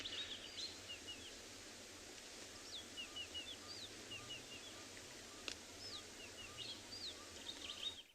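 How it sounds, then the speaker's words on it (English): Wild birds, barbets among them, call at sunrise on safari, sending out faint, scattered chirps and short whistles above a low outdoor rumble, some distance away, with no talking. "So lots of wonderful birds busy calling at the moment."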